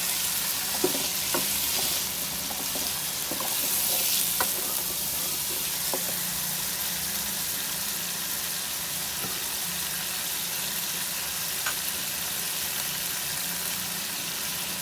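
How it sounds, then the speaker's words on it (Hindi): Pieces of meat fry in a hot pan at home for gosht, a continuous close sizzle crackling softly with scattered pops and occasional stirring clicks, no voices over it. "गोश्त को 1 से 2 मिनट तक अच्छी तरह भून लेते हैं।"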